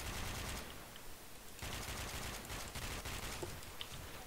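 First-person shooter gunfire on a Dust 2-style map, faint and distant, with rapid automatic bursts and scattered single shots running throughout.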